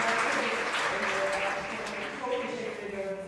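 An audience applauds at a civic stage event, steady clapping throughout with faint background voices and some tonal sound mixed in.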